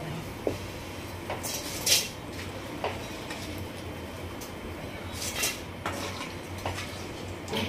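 Corn poha chivda stirred and frying in butter in a pan, with soft continuous sizzling under intermittent scraping and clinking of a spoon against the metal, close and fairly quiet.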